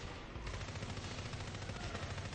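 Repeated shotgun blasts in the game NeverDead, loud and continuous with rapid shots layered over one another, no talk.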